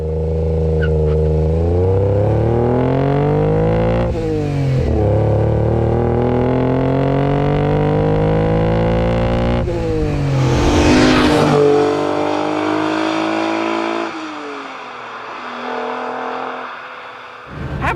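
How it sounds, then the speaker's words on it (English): A Ferrari-derived V6 engine in a Fiat Dino Coupe revs up hard through rising pitch, shifts, and keeps pulling loudly, then eases off toward the end. "Let's do another pull and get the most out of that very special Racing Heritage engine."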